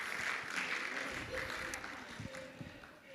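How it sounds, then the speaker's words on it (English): Audience applause at an evening lecture event at Regent College: steady broadband clapping through the whole stretch, moderately loud, with a voice talking over it. "Sure, you can applaud for them."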